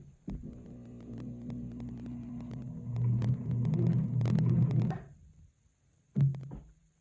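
A sewing machine running slowly through a few stitches on a hoodie, a low motor hum with a steady throbbing needle rhythm that rises, stops, then gives one short final burst.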